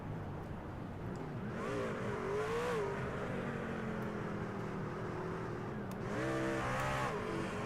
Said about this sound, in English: Aiden Norman, we hear you revving a motor in that number 62 RaceArcs.com Toyota TRD